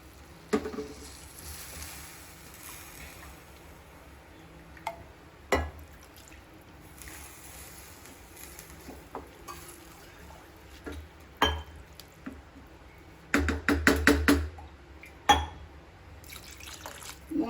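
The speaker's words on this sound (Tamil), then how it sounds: "அதில் ஒரு 2 கப்பு தண்ணியும் 1 கப்பு நான் பாலும் விட போகிறேன்." Water and milk splash and drip into a pot in short bursts, with a longer pouring gurgle near the end, close by in a quiet room.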